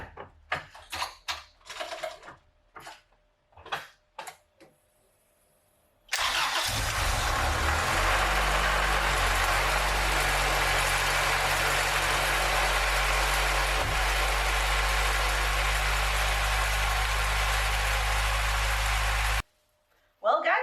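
A car engine with a freshly rebuilt and installed B series distributor cranks, catches and settles into a loud, steady idle that runs near and continuous for about thirteen seconds before cutting off, with brief talk and handling noises before the start.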